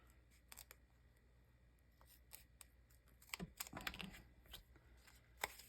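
Scissors cutting a strip of foam tape at an angle during card making, giving quiet, close snips and rustles, sparse at first and then a denser cluster of crisp cuts toward the end, with no talking.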